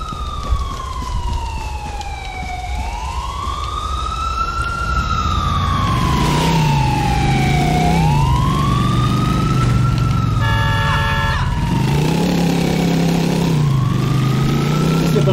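Police car sirens in GTA 4 wail up and down loudly and continuously, with a rumbling engine beneath and a brief burst of rapid yelp tones midway.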